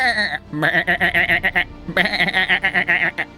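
A voice imitates a sheep bleating during a tabletop fantasy role-playing game, giving several loud, wavering bleats in two quick bursts with a short pause between them.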